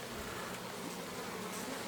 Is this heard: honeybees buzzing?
yes